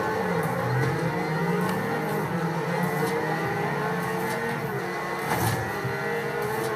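Racing car engine in Forza Horizon 2 accelerating during a race, a steady loud mid-pitched drone with rising whir and a brief louder surge near the end, no talk.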